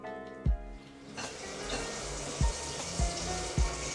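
Fresh blueberries are rinsed under running water, with a continuous rushing hiss and several dull knocks and thumps as the berries and bowl are handled.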